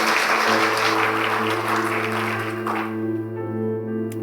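A church congregation at GBI Pelita Medan claps steadily and loudly for several seconds. Sustained tonal music runs underneath, and the applause thins slightly toward the end.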